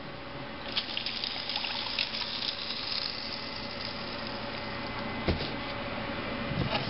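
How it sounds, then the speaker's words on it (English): Distilled water running steadily into a container to mix a solution while converting a dry-charge lead acid battery to an alum crystal cell, a continuous close splashing flow for the whole stretch. "I'm going to mix that with distilled water."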